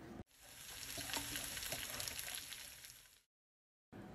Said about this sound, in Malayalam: ആ എണ്ണ തന്നെ ഉപയോഗിച്ച് നമ്മൾ അതിനകത്തേക്ക് കൊത്തി അരിഞ്ഞ് വെച്ചിരിക്കുന്ന ഇഞ്ചി വെളുത്തുള്ളി കൂടി നമ്മളിട്ടൊന്ന് നന്നായിട്ടൊന്ന് വഴറ്റിയെടുക്കാം